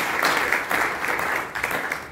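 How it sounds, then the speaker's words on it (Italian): An audience applauds at a public event in Carpi welcoming Annamaria Frustaci, a dense wash of clapping that swells and dips slightly across the short stretch, with no voice over it. "vi facciamo un applauso per aver accolto"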